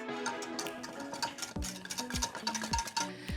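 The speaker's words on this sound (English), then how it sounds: "Give this a little whisk." Buttermilk marinade with seafood seasoning and chipotle powder being whisked in a bowl, quick rhythmic metallic clicks and scrapes against the sides, close and clear with no talk.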